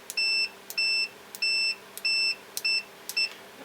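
An Innova 3320 auto-ranging multimeter gives rapid continuity-test beeps: six short, steady electronic tones in quick succession, each preceded by a faint click, loud and close with no talking.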